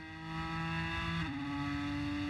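Ford GT race car engine screaming at high revs while slingshotting past a Ferrari, a loud steady harmonic whine that drops in pitch once at a gear change, heard alone without speech.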